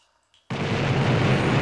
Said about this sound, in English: that hurt me because it was a terrain explosion